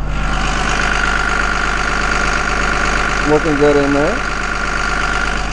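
A Cummins 5.9 liter turbo diesel in a 2002 Thomas Saf-T-Liner school bus idles with a steady, loud clattering rumble throughout, while a person speaks briefly over it.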